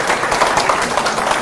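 Crowd applause from an audience at a religious lecture, honoring children who performed a welcome dance; dense, steady clapping fills the short stretch with no pauses.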